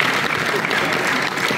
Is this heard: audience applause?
yes